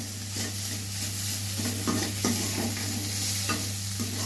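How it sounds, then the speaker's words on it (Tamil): Carrots and potatoes sauté in a pan for a vegetable kanji, a spatula scraping in repeated strokes over a continuous close sizzle, with a low steady hum underneath. "இப்போ நம்ம இந்த கேரட் வதக்கிட்ட அப்புறமா நம்ம இந்த பொட்டேட்டோவை நல்லா வதக்க போகிறோம்"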